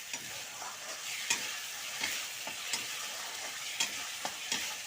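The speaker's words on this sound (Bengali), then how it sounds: "টমেটোটা পেঁয়াজের সাথে ভালো করে কষিয়ে নিতে হবে।" Tomato paste frying with onions in a pan: a soft, close sizzle with regular stirring scrapes every half second or so, quiet and without talk.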